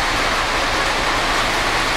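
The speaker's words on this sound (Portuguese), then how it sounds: "chuvinha tá caindo aí." Steady, dense hiss of light rain falling, even and unbroken throughout, fairly close with no voices.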